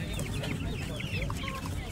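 Chickens clucking at an agricultural poultry exhibition, several soft chirps and clucks over a murmuring hall background, fairly faint.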